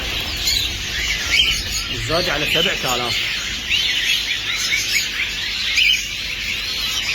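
Many ornamental birds chirp and twitter together at a bird seller's in Iraq, a dense, busy chatter that carries on throughout. Someone speaks briefly in the middle of it.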